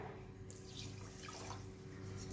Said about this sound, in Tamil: 2 கப் சர்க்கரைக்கு 1 கப் தண்ணி சேர்த்து அடுப்பில் வைக்கிறேன்